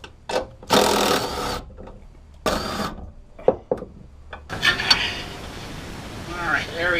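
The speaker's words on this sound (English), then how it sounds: "We'll go ahead and take these 4 bolts out." Bolts being removed from a car strut during a coilover install, with bursts of rapid mechanical ratcheting and tool whirring separated by pauses, close by, with clicks and handling noises between bursts and the start of a remark.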